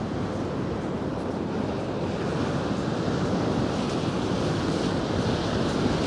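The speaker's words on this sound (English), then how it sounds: "Get a bit of the waves, which conveniently and as ever have died down as soon as I start filming" Surf rolls steadily along the Paphos seafront in gale conditions, a continuous broad roar of breaking waves mixed with wind buffeting the microphone, with no voices.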